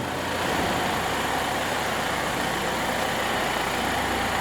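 A Volvo XC SUV engine running steadily during an automated self-parking maneuver, a constant close idling hum without pauses or speech.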